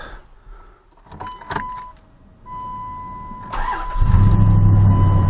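A Dodge Dakota or Durango 1500 truck that had a cam position sensor fault cranks with a warning chime, then catches and settles into a loud steady idle close by.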